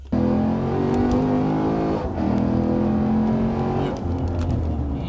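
A 2008 Lexus IS F with a naturally aspirated V8 accelerates hard from inside the cabin, a loud rising engine roar that climbs through the revs, dips at a gear change, then pulls again.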